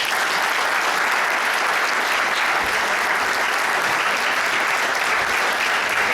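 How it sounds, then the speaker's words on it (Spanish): A large audience at a talk on technology, AI and trade unions gives a guest speaker a loud, sustained round of applause, dense and unbroken from start to finish. "a quien pido un fuerte aplauso para ella"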